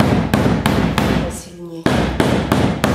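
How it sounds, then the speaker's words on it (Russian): Hidden-seam tape with a metal strip is hammered into upholstered furniture with foam padding, giving a steady series of close, sharp hammer blows with a brief pause midway and voices under the impacts. "Она даже с поролончиком у нас забивается."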